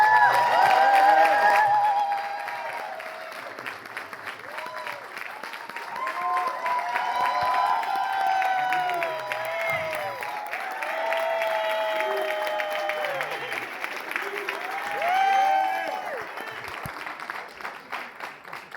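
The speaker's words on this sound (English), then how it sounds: "Give her a round of applause." Applause and cheering swell from a live audience at Sip Live 2025, rising and falling in waves with whoops and shouting voices mixed in over the clapping.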